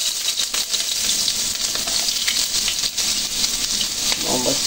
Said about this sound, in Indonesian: sekarang kita mak masukkan dulu bawang besar dulu.